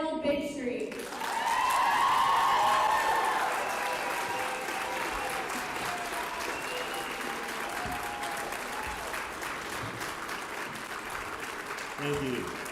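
Sustained applause and cheering from a rally crowd at the Oklahoma State Capitol greeting a speaker, swelling loudly at first then holding steady as a dense wash of clapping, with a voice heard near the end.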